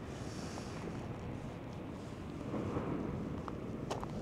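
Atlantic surf rolls at Nazaré beach in Portugal as a faint, broad wash of wave noise mixed with wind buffeting the microphone, swelling slightly toward the end.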